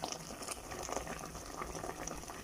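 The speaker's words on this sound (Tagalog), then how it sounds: "kumukulo na yung steak ko" Beef steak simmering in its own broth after half-frying, a continuous soft bubbling and gurgling close up, with fine popping textures throughout.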